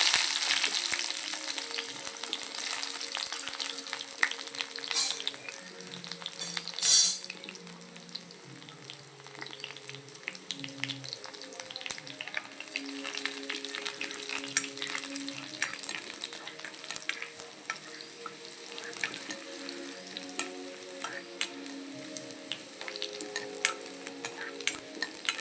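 Shallots frying in a pan for a roasted-coconut koorka curry, a quiet steady sizzle with a rattling stir around the seven-second mark and intermittent soft scraping, close and without voices.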